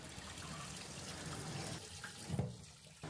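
Steady running tap water over a sink while catla fish heads are rinsed clean in a home kitchen, a continuous close wash with brief splashy surges near the end.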